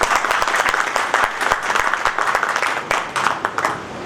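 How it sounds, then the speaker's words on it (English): An audience at a business conclave in Jammu breaks into steady applause, many hands clapping densely together for several seconds at a moderate level with no voices standing out. "which deserves a huge round of applause for everyone"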